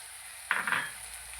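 Cumin seeds hitting a pan of cooked tomato-onion masala, giving a sudden close sizzling hiss that flares twice and then fades over about a second.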